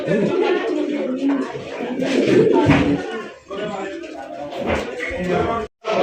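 A breeding pair of large fancy pigeons coo in a loft, with soft, throaty rolling calls close by that overlap with someone talking.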